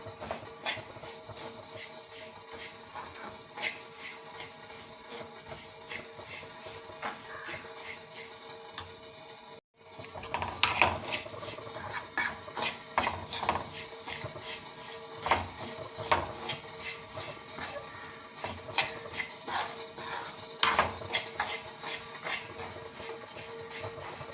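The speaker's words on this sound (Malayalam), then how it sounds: "ഇങ്ങനെ ഒന്ന് വറക്കണം" Semolina roasting in a pan for upma is scraped and stirred with a utensil, giving repeated dry rubbing and tapping strokes, steady at first, a brief silence near ten seconds, then louder, busier scraping.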